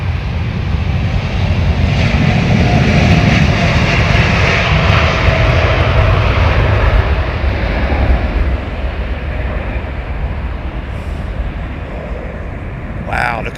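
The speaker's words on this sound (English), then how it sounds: "Oh, brand new American Dreamliner," An American Airlines Boeing Dreamliner jet at London Heathrow Airport roars loudly and steadily, a broad engine rumble that gradually eases as it passes, with voices talking over it.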